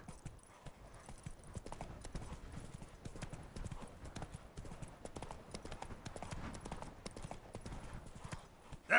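Horse hooves gallop in a PS4 video game, a steady, close clip-clop rhythm that runs continuously without a break.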